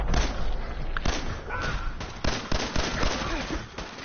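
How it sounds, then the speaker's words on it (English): Gunshots in Fallout 4 crack out in a series of sharp, loud reports, several closely spaced and irregular, with a brief voice mixed in. "I plan to shoot them all. Like this."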